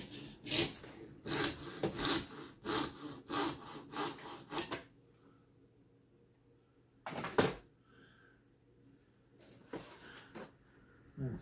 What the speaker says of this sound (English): tilt my blade at a slight angle, then cut.